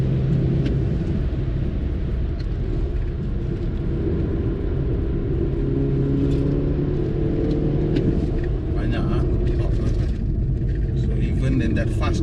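A BMW 330i G20 accelerates along a winding early-morning mountain road, giving a continuous low engine rumble with a steady drone of road noise underneath, heard from inside the car.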